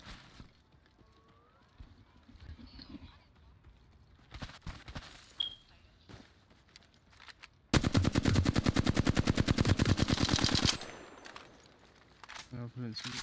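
Apex Legends gunfire: scattered single shots and short bursts, then a loud sustained automatic burst lasting about three seconds, followed by more shots, with footsteps and game sounds in between.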